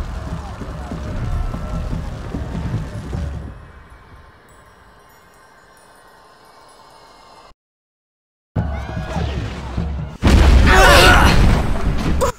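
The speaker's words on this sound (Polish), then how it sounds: "Wow, co to są za wybuchy tutaj?" Explosions boom in the Harry Potter and the Goblet of Fire PC game at Little Hangleton: heavy rumbling blasts, a quiet stretch and a brief silence, then a louder burst of booming at the end, with no talk.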